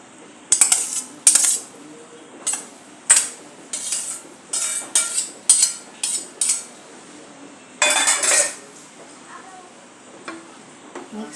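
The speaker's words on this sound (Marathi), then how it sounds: "आता यामध्ये आपण घालणार आहोत पास्ता." Pasta tumbles into a pan of vegetables in a series of sharp, close clinks and rattles, coming in short separated bursts against a quiet background.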